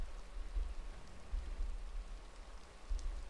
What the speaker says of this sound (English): Seems as though it is raining outside.